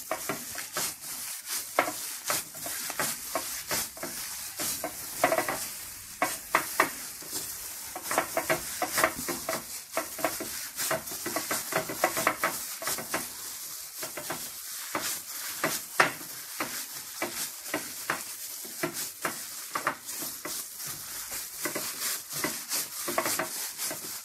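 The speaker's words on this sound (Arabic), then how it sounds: "هسه راح اخلط المقادير كلها عندي حتى تتماسك." Meat and flour kneaded together by hand, a close run of wet squelching, rubbing and slapping textures in an uneven rhythm that continues throughout with no talking.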